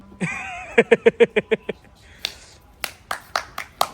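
Sharp hand claps during a playful chase game: a brief voice, then a quick run of about six evenly spaced claps, followed by a few scattered, slightly softer claps.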